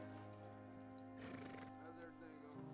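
A horse in Red Dead Redemption 2 whinnies once, a short bright neigh over soft game ambience, with someone talking nearby.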